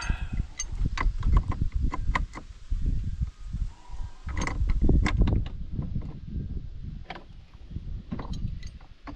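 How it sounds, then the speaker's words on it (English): A pipe wrench works on a fitting at a remote wilderness cabin, giving a run of close, irregular metallic clanks, scrapes and ratcheting knocks with short pauses between efforts. "let's see if we can do this with a pipe wrench"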